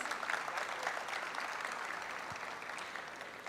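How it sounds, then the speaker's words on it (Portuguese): Audience applause at an events-industry conference panel, a steady wash of clapping heard at moderate distance that holds evenly for a few seconds. "Vamos também oferecer uma salva de palmas."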